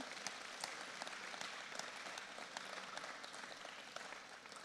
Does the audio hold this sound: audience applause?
yes